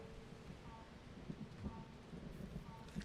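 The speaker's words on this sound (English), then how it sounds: "And it's raining." Rain falls in the LEGO Fortnite video game as a faint, steady hiss with soft scattered thuds, low in level throughout.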